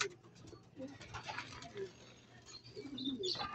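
Pigeons coo softly in a loft, several low throaty calls spread across a few seconds with faint chirps and quiet background noise.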